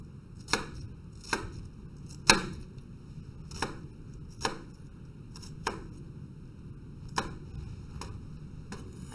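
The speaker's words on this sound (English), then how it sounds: "then I'm going to slice the onion" Knife slicing through an onion on a cutting board in sharp, evenly spaced chops, about ten crisp strikes over several seconds, close and distinct with quiet gaps between them.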